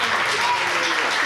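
Steady applause from an audience at the close of a Binance Labs presentation, a dense continuous patter filling the whole moment at even loudness.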